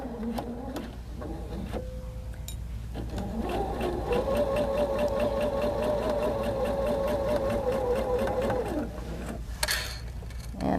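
A sewing machine stitches the seam of a pleated fabric zipper pouch made from fat quarters, a steady close buzzing run of several seconds with brief starts and stops at either end, no talking over it.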